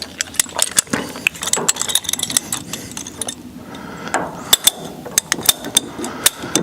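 A water heater pipe is cut to length, giving a close run of sharp clicking, ratcheting snaps in an uneven rhythm with a short pause midway and no talk.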